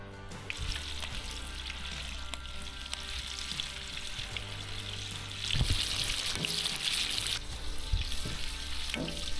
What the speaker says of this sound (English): I'll give it an extra minute in the oil just to get it nice and dark and crispy.